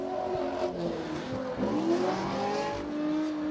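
Race cars, a Nissan 350Z and a Corvette, rev and accelerate hard on a grassroots track, engine notes rising and shifting steadily throughout with a dense, continuous roar.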